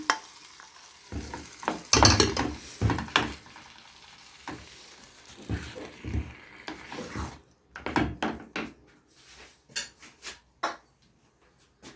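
Tomato juice goes into a hot pot of okra and meat, followed by stirring and sizzling with irregular spoon scrapes against the pot, loud clattering bursts separated by quieter frying, no talking.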